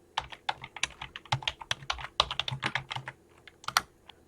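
Quick, irregular keystrokes on a computer keyboard as a cd command is entered into a Windows command prompt, close and fairly quiet, with sharp clicks in uneven bursts and no talking.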